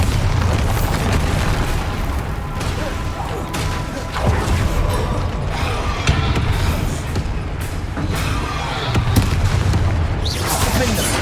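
Confringo and Bombarda spell blasts from Hogwarts Legacy go off in repeated booming bursts over a dense battle din, with spoken spell incantations between them.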